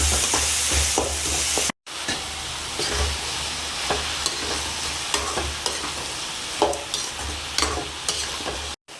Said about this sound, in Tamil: தக்காளி வதங்கினோடனே நம்ம கட் பண்ணி வச்சு இந்த சுரக்காவை போட்டு வதக்கணும்